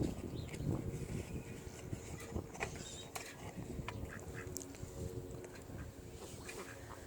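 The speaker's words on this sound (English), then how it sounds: "Those are pretty good sized ducks too, Muscovies." Muscovy ducks quack and honk in a close, noisy group, calls overlapping irregularly over a rumbling outdoor background.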